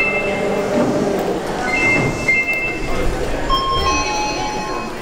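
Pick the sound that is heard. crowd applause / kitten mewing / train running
train running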